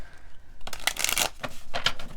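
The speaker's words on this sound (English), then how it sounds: "So I'm just gonna shuffle a masculine and feminine group of cards here so that we can get into it." Tarot cards from a Hermetic Tarot deck being shuffled up close, starting after a quiet moment with a loud riffling burst, then a few shorter papery flicks.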